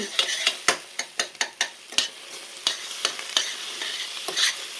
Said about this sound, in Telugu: ఇట్లా మనం కలిపేసుకోవాలి. చాలా బాగా కలిపేసుకోవాలి.